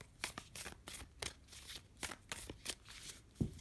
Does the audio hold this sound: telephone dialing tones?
no